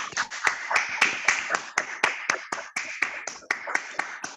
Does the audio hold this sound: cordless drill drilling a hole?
no